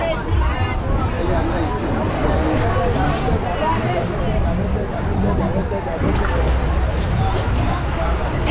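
Dense crowd hubbub in the busiest part of Accra, Ghana: a constant, loud wash of overlapping voices and street noise with no pauses, packed and close all around.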